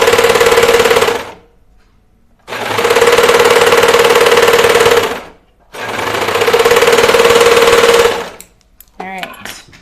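Three long bursts of rapid machine stitching from a sewing machine working a cotton-blend sweater, loud and close, separated by short pauses, with a brief clatter at the end.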